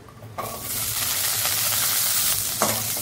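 Garlic cloves and ginger sizzle in a spoonful of hot oil for potato rassa bhaji, a steady close, loud frying hiss with brief stirring scrapes.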